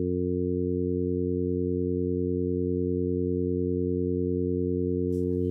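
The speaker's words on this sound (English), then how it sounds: "We can now adjust the volumes of the oscillators to listen to different timbres." A steady additive synthesis tone built from several mixed oscillators, a fundamental and stacked harmonics, holds constant and loud with no change in pitch or level, and a faint brief click sounds near the end.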